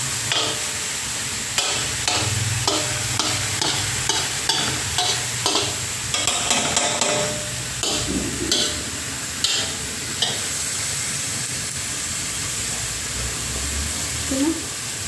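Ground beef stirred and frying in a pan for spaghetti sauce, a steady close sizzle with repeated scraping stirs through most of the stretch, and voices talking intermittently over it.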